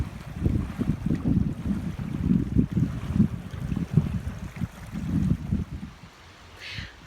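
The incoming tide surges into a tide pool in low, rolling bursts of water roughly once a second, with blustery wind noise mixed in. The surf is close and fairly loud, easing off in the final second.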